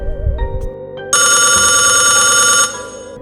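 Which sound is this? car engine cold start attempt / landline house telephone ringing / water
landline house telephone ringing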